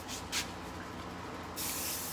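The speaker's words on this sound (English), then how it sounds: "So I'm just gonna spray all of it with black" Spray paint hisses from a can in short bursts onto a travel mug, then a longer steady spray of black near the microphone.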